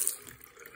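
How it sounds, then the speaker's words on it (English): Tap water running into a cup, a brief close splashing trickle lasting under a second with no talk over it. "First, you got to fill the cup of water."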